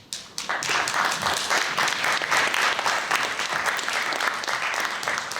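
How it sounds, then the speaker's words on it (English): Sustained applause from an audience at a Florida State House candidate debate at FSU, dense steady clapping that starts after a brief pause and stays loud and even throughout. "thanks for that big round of applause for our candidates"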